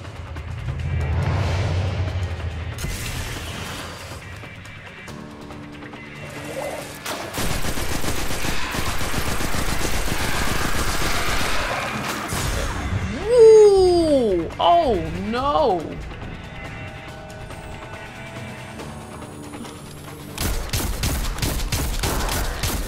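Sniper fire and other gunshots ring out in the shooter game Destiny 2, sharp bursts scattered among game effects and music, with some loud swooping sounds in the middle and a player talking at times.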